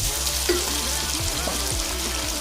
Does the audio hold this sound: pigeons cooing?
no